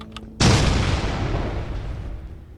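A sudden loud blast in the video game Lethal Company hits after a brief quiet lead-in, then a deep, rumbling roar that decays slowly over about two seconds, with no speech.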